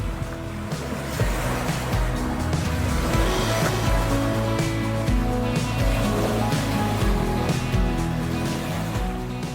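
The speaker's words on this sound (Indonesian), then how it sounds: "hingga mendengarkan suara desir ombak" Waves lap and ripple continuously around a sandbar beach on Muna Island, a close, steady wash of water with a low rumbling underneath.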